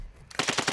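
A rapid burst of automatic gunfire in Call of Duty Warzone, close and loud, with several evenly spaced shots following a short quiet moment.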